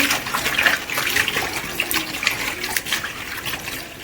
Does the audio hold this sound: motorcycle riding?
no